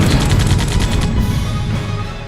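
Gunfire and explosion-style battle sounds from tanks attacking a weakened battleship in the strategy game European War 3: a dense, loud volley of rapid shots in the first second, then sustained rumbling combat noise.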